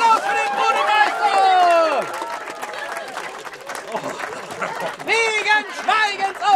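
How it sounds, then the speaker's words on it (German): A crowd at an outdoor festival applauds the fountain master, with scattered clapping and loud shouting voices overlapping throughout. "Applaus für und Applaus für den Brunnenmeister!"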